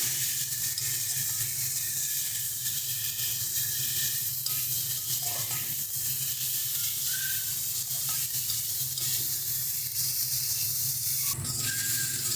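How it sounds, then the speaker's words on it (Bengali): A steady sizzle of spice paste frying in a pan, with an occasional scrape of stirring and no talking. "আর ভালো করে সমস্ত মশলাটাকে কষিয়ে নেব।"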